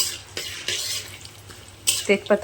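A spoon scrapes and clatters in a pan while chicken is stirred with spices for a yogurt chicken dish. Several distinct scraping strokes come close and fairly loud over a low sizzle, ending in sharper metallic clinks.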